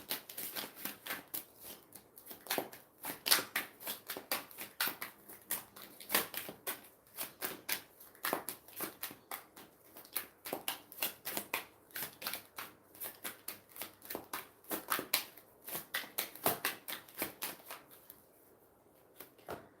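Tarot cards are shuffled by hand in repeated bursts of quick, crisp riffling and flicking, close and fairly soft, with short pauses between rounds.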